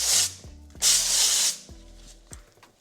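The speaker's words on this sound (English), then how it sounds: "now I'm gonna spray just a little bit of avocado oil on these veggies" Short hissing sprays of avocado oil from a spray bottle onto seasoned vegetables, two main bursts with light handling knocks in between, close and clear.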